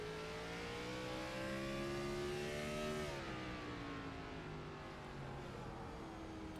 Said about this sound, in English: You can just hear the cars.